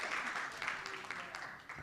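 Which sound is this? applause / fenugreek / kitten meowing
applause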